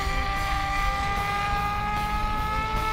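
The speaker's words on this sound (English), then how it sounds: "I'm pretty much at full throttle doing this." A Freewing Seagull 1400mm RC airplane flies at full throttle on its propeller, a steady high-pitched whining buzz with stable tones held throughout, fairly distant and alone.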